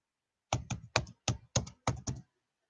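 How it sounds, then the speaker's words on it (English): Fast keystrokes on a computer keyboard, six or seven quick clustered taps in a brisk burst, close and fairly quiet, with no talking over them. "I'm typing it in right now."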